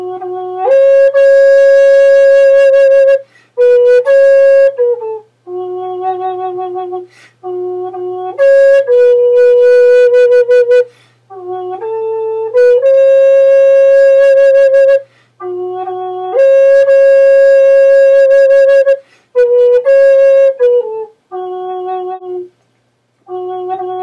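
A breathy Native American flute plays the folk tune Wayfaring Stranger alone on a pentatonic scale, slow and mournful, with held notes separated by short pauses and ornamented slides between pitches.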